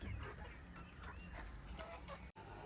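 Hens in a backyard flock cluck softly in short bursts over quiet ambient noise, faint and somewhat distant.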